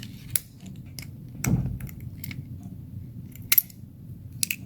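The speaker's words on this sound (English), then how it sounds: "press down until you hear something click" Sharp clicks from a Supply Max razor as the blade is pressed into place, a few isolated snaps separated by pauses and a soft rustle, close and quiet with no one talking.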